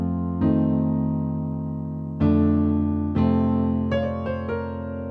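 Solo piano plays the chordal walk-down that follows the chorus of a song, with sustained chords and four or five new chords struck one after another, moderately loud and alone.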